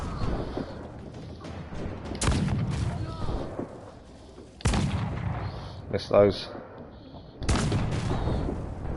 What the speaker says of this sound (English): let's try and deal with the barrels because they do a nice explosion